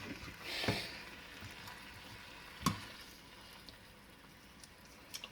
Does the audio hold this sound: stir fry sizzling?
yes